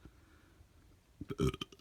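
A short, low burp erupts near the end after quiet room tone, close and fairly loud with a rough gurgling texture.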